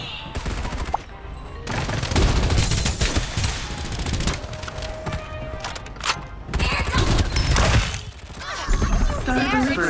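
Rapid gunfire in the shooter game Farlight 84 comes as dense, loud bursts and sustained volleys with thumps and impacts. Game voice lines and other talk break in between the shots.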